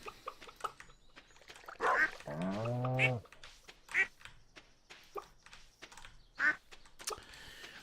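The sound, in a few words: ducks quacking in Stardew Valley video game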